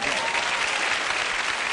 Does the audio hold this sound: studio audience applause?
yes